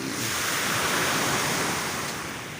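Steady broadband wash of surf rolling in, a continuous close roar of waves with no voices, fading slightly toward the end.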